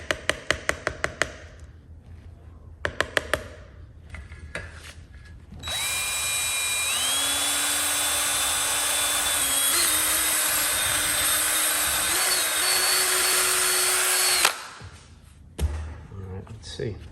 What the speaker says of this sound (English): let's see if I can put a polishing wheel on one of these drills